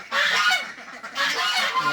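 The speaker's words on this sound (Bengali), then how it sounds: "হাঁস" Ducks quack in loud, harsh, overlapping bursts close by on a farm in Malaysia, in two noisy rounds with a brief lull between.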